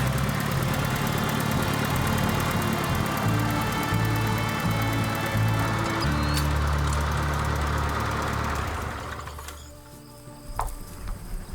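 A 1949 Allis-Chalmers G tractor engine runs steadily at a low, loud idle-like drone for most of the clip, then drops away near the end, with crickets or insects faintly audible in the background.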